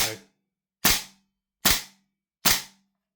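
A gas-powered airsoft gun running on refilled propane fires four sharp, evenly spaced shots through a chronograph, each a loud, close crack that decays quickly into silence.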